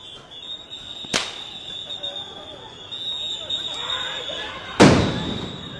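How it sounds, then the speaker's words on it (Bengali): Sound grenades fired by police and army during clashes between Dhaka College and City College students at Science Lab intersection in Dhaka: two sharp loud blasts, one early and one near the end, over a noisy crowd with voices throughout. "সাউন্ড গ্রেনেড মারছেন কিন্তু"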